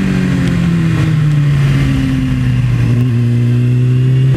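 A motorcycle engine revs loud and close with a flat, empty patch in the middle of the rev range, its pitch sliding steadily and dipping briefly near the end, with no voices.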